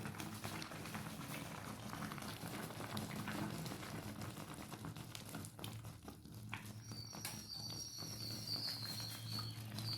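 Water boils steadily with honeycomb in it to render beeswax, a continuous close bubbling wash that holds at an even level throughout with no talk.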